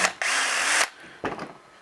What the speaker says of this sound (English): So first things first, we're going to pull these screws out